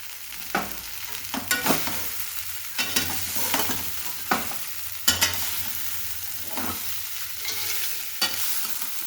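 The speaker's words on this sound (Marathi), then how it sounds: "पोहे टाकायचे. हलवायचे." A spatula stirs poha in a hot frying pan, making repeated scraping strokes in an uneven rhythm over a steady low sizzle, close and clear with no talking.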